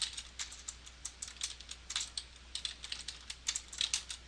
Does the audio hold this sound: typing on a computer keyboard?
yes